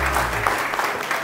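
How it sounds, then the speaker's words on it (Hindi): Studio audience applause on a TV morning show, a short, loud, continuous wash of clapping from many people, heard alone with no talking. "बहुत सारी तालियां जी"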